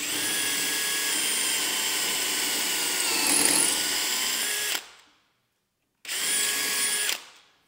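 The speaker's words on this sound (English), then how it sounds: "We've got our 1/4 inch drill bit chucked up. Make sure it's centered, double check your measurements, and drill into the post." A power drill with a 1/4 inch bit whines steadily at high speed as it bores into a wooden handrail post, stops briefly, then runs again in a shorter burst, close up.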